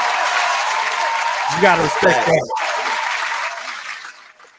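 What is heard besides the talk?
round of applause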